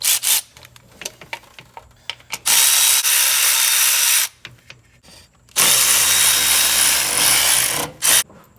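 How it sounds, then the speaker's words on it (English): A ratchet with a 10mm socket works on the ignition coil screws of a Nissan Titan, giving two long, loud, close bursts of rapid clicking separated by quieter handling noises and short taps. "Using a 10mm socket, we're going to remove 4 screws, 1 for each coil"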